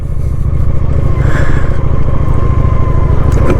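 A Honda Shadow 750 ACE motorcycle out on a ride, its engine giving a loud, steady low rumble with road and wind noise throughout, no voices.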